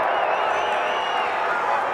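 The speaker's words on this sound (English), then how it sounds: "The crowd didn't like the stalemate call there." Wrestling crowd in an arena at a Big Ten Iowa versus Minnesota 125-pound college dual reacts to a stalemate call, producing a steady, moderately loud wash of murmuring and booing.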